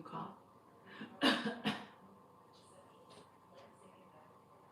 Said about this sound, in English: Can you cough?